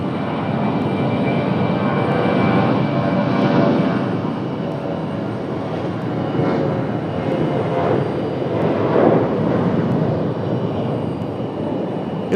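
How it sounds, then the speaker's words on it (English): United Boeing 737 jet taking off, a loud, steady broadband engine roar that swells slightly and holds for the full stretch, with no voices over it. "737's taking a while to take off there"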